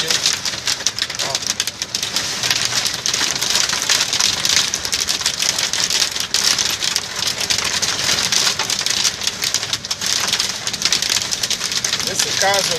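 Large hailstones pelt a truck in a hailstorm, a loud, dense, unbroken rattle of hard impacts drumming on the cab and body throughout, with a voice faintly beneath it.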